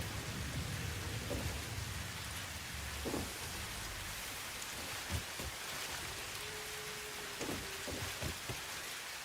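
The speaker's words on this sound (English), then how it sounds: "With the weather set to extreme, it is just raining forever." Relentless heavy rain from the extreme weather setting in Satisfactory, an even broadband hiss with occasional low thumps and a faint brief tone, sustained and without talk.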